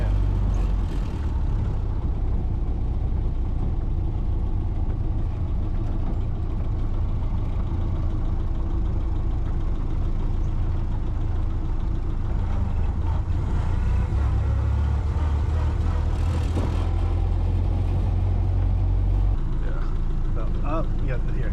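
Steady low rumble of a 1931 Ford Model A engine while driving, heard from inside the car with a constant drone throughout and people talking over it.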